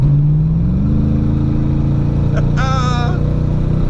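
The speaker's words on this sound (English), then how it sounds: "let's do one more pull" A loud engine of a 37-year-old Fox Body four-eye Mustang roars steadily during a hard acceleration pull, its pitch shifting as it pulls, with a brief high whine or squeal partway through.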